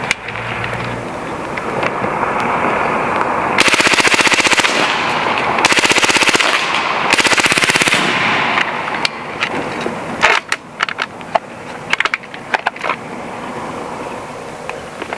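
A Hatsan Blitz .30 caliber air rifle fitted with an AIR-15 kit fires full-auto in loud, sustained rapid bursts outdoors, followed by a few scattered single shots.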